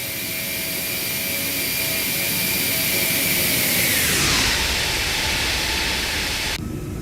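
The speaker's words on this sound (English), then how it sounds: "This is the stock sound, Classy Traveler." Simulated Airbus A340 jet engines in the Toliss flight simulator give off a loud, steady roar with whining tones that glide downward partway through, as if the thrust changes, and continue until the sound cuts off sharply near the end.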